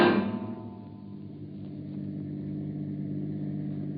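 A car engine rumbles steadily at low pitch as the vehicle turns into a workyard and pulls into a garage, opening with a brief louder surge, then settling into a smooth, moderate drone.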